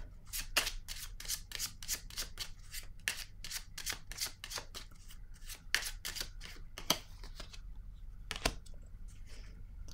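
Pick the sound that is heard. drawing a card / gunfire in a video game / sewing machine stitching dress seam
drawing a card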